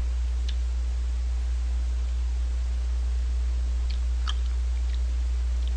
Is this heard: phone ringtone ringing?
no